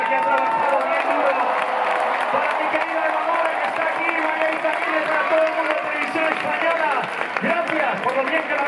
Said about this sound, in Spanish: eso se merece un fuerte aplauso para toda la delegación española que ha trabajado bien duro